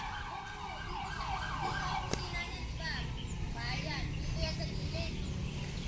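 A fire truck siren wails, rising and falling in the distance beneath steady traffic noise, with its sweeping tones repeating across the clip.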